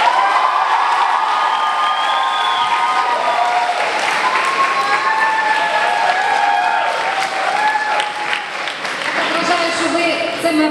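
A crowd at a first-year student ceremony for orchestral wind and percussion students claps loudly and continuously for about ten seconds, with cheers, whoops and high whistles rising over the sustained applause.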